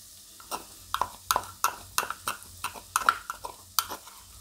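Kashmiri red chili powder is added to a sizzling potato-onion curry. A spoon clinks and scrapes against the pan in quick, irregular stirs over a faint sizzle, close-up, with no voices.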